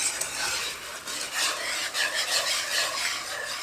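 A spoon works beef stock into lumpy Swedish meatball gravy in a pan, giving a continuous close scraping and stirring sound with no talk.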